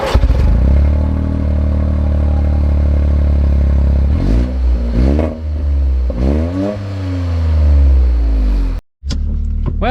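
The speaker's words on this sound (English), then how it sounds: "Let's see how the race car Corolla performs." A 2025 Toyota GR Corolla accelerates hard, its engine loud and close, climbing through several revving gear pulls with brief dips between shifts and a short cut near the end.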